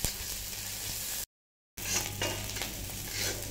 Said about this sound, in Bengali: পেঁয়াজ আর কাঁচা লঙ্কাটা অ্যাড করে দিব। তারপর এটাকেও একটু ভালো করে ভাজতে হবে।